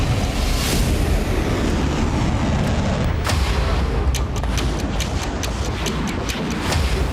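Missile strikes and explosions hit Kharkiv, with heavy booming blasts and dense rumbling over a noisy roar, followed by a rapid run of sharp cracks toward the end.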